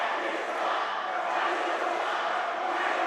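Basketball crowd at a high school prep game in an arena, Orangeville Prep National versus Royal Crown, chanting at the referees; a dense, steady roar of many voices that holds unbroken the whole way through.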